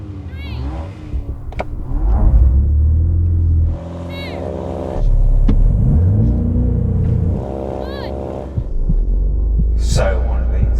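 A BMW M135i launching in a drag race, its engine droning loud and steady, rising in pitch through bursts of acceleration with brief dips at gear changes, under occasional excited speech.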